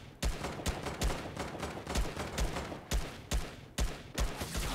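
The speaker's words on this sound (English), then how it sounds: "Oh, I just got sniped." Sniper gunfire in a Fortnite match: repeated loud, sharp shots at a steady pace of about one every half second, with no talking.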